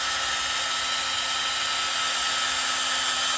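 A steady, high-pitched electric whine runs without a break, loud and close: a power drill with a dying battery held at full speed, turning a Ford 354ci Cleveland engine to check oiling.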